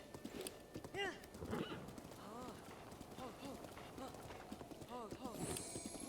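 Donkey hooves in Zelda Breath of the Wild, with steady clip-clop footfalls and occasional whinny-like calls over rain and ambient game sound.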